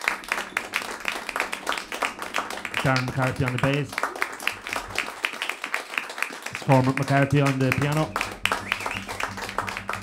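A jazz concert crowd keeps clapping steadily throughout while a host announces the band members over a microphone, the applause dense and continuous beneath the talking.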